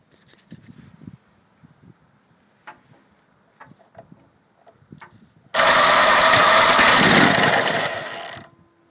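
A Toro power handle electric motor whirs on suddenly after some quiet ticks and handling noises, a loud, even buzzing hum that runs for about three seconds before winding down.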